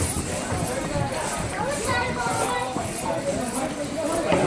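Horses' hooves clip-clop on the Vaishno Devi pilgrimage path in a steady, uneven patter amid a busy outdoor bustle, with people talking nearby.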